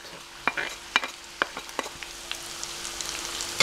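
Onion, garlic and bell pepper sauté quietly in a pan: a soft, low sizzle broken by several crisp clicks and taps from stirring, close by and with no talking.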